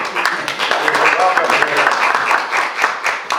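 Applause at a town council meeting for the newly introduced director of programs and events in New Milford: a close, steady patter of many hands clapping over several seconds, with a voice or two mixed in.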